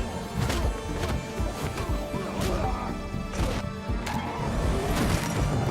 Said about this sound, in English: Chris charges in, tackling Corvo through a glass window.